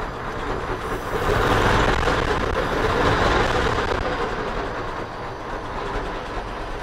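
A 1905 Mitchell D4 Roarabout antique car engine runs nearby in a dense, steady chugging rumble that swells after the first second and then eases slightly, with no voices.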